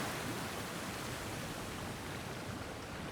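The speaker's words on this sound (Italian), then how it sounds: "questo farà attivare una nuova cascata d'acqua" A newly triggered waterfall in the video game Genshin Impact gives a steady, dense rushing roar of falling water, constant and unbroken throughout with no voices.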